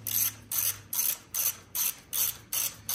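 A ratchet wrench snugging bolts on an ERIDE Pro SS electric bike, a rapid close clicking in seven evenly spaced bursts, each stroke a short run of pawl ticks.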